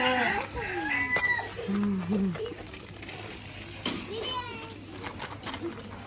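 A rooster gives short clucks and calls amid a busy farmyard area at the Kyiv Zoo, with people talking nearby and other birds chirping in the background.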